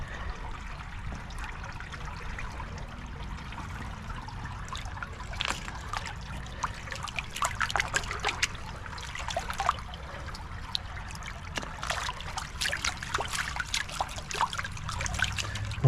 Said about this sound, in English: One good thing about this, there is really good water flow.